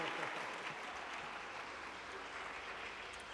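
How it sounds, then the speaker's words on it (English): An audience claps in a round of applause at a staged museum debate on electronic devices, a soft, dense and continuous patter that stays even from start to finish. "please, a round of applause"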